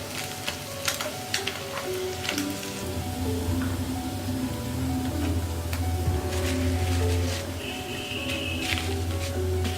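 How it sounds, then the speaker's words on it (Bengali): Amudi fish frying in hot oil, a soft continuous sizzle with crackling pops at moderate level, joined by occasional clinks and faint background sounds. "এইভাবে আমি বাকি মাছগুলো ভেজে নেব"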